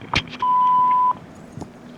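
A single steady answering-machine beep sounds for under a second, loud and clear, briefly preceded by a short thump and followed by a faint click.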